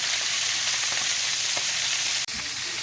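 UK-style bangers, pork sausages browning in a hot pan, give off a loud, continuous crackling sizzle, close up and alone, with one brief dropout near the end.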